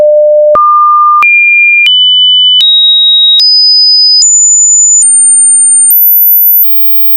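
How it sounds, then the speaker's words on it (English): A series of pure electronic test tones, each held under a second, stepping upward in pitch one after another until the last very high tone at 18,000 Hz, loud and steady with no voices. "The next frequencies you will hear are getting progressively higher"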